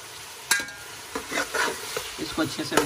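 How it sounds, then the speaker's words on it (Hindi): Garlic ginger paste stirred into a frying chicken biryani base in a pot, with a steady sizzle beneath scraping spoon strokes and clinks against the metal, close and fairly loud. "इसको अच्छे से मिक्स कर लेते हैं"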